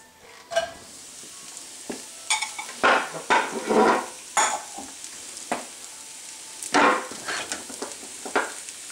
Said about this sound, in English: I'm going to start by sauteing these vegetables until they are lightly browned and caramelized in a small amount of olive oil.